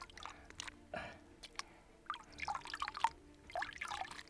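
Small drips and trickles of water leaking from a makeshift container filled with dirty water outdoors, faint and close, with irregular droplets and soft splashes.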